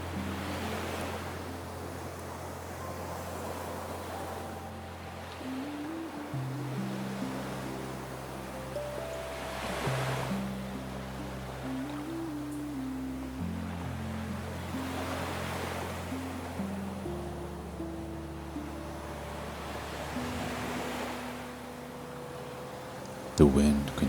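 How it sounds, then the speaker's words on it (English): Sea surf and wind below a windswept cliff on the Faroe Islands in the Atlantic, a steady soft wash of waves with gusting air, heard continuously beneath sustained, slowly shifting drone tones. "The wind continues, the sea below continues"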